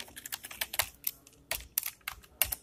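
Rapid, uneven keystrokes on a computer keyboard while code is typed, close and clear, with short bursts and brief pauses and no voices.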